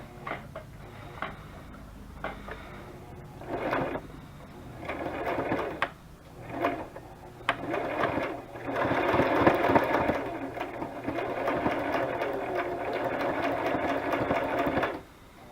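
A sewing machine runs a zigzag stitch around a fabric butterfly appliqué pocket made from scraps, starting in short bursts and then settling into a steady, close, continuous whir for the last several seconds.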